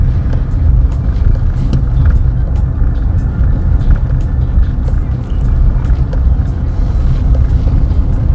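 A car driving through Burnt Savannah district in St. Elizabeth, Jamaica: a steady, loud low engine and road rumble from inside the vehicle, continuous throughout with no talking.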